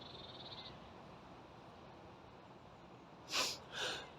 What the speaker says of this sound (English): Oh, excuse the cough.